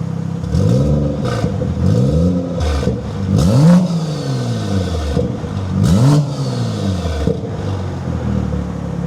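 A Toyota Supra MK5 fitted with a 5-inch downpipe revs repeatedly in loud, close bursts, each rise and fall of the engine followed by crackles and pops on the overrun.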